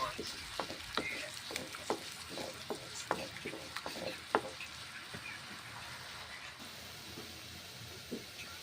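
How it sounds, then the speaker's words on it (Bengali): Spices being sautéed and stirred in a karai, with a soft sizzle and a run of regular scraping strokes that fade toward the end, moderately quiet and close. "এই যে মশলা দেখুন কষে নিচ্ছি।"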